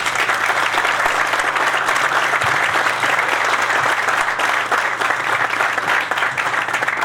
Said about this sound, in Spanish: el aplauso del final fue mejor que el del principio